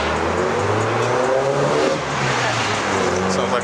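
A Nissan KA engine revs at a nighttime car meet among tuned cars, giving a sustained mid-pitched engine drone that rises and holds under steady crowd chatter and ambient noise.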